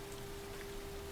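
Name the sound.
rain falling in the video game L.A. Noire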